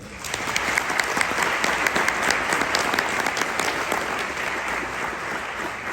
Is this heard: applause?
yes